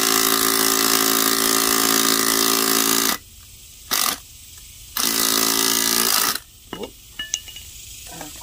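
A socket driver turns a tap to cut threads while repairing a broken boat anchor: loud steady motor whine in long bursts, cutting out abruptly between runs, with a short blip and a few faint clicks and scrapes at the end.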